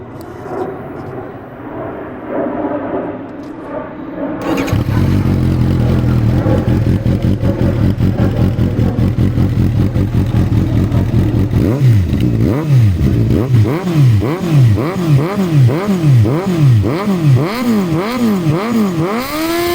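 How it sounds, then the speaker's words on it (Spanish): A Suzuki Gixxer GSX-S750 sport motorcycle engine starts and idles loudly, then revs repeatedly in rising and falling bursts, close by and continuous. "Es una moto que suena demasiadamente rico."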